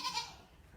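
A newborn lamb, one of a pair of twins, lets out a short, high, quavering bleat close by that fades quickly into quiet farm background.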